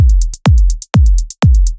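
Electronic kick drum in a melodic techno beat, hitting four times in a steady pulse with deep booming thumps, while a bright hi-hat pattern ducks and swells between kicks under sidechain pumping from LFO Tool.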